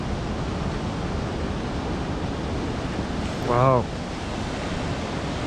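Big waves crash on a rocky coast on a wet day, a loud continuous roar of surf mixed with wind buffeting the microphone, and one brief exclamation from a person near the end.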